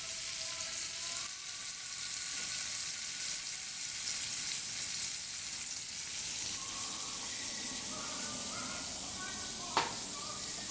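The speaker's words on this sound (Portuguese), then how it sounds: "Preciso só dar uma gratinada nesse filé, dar uma selada junto com essa manteiga." Beef fillet sears in butter in a hot pan, a steady dense sizzle and crackle filling the whole stretch, close and loud, with a brief clink near the end.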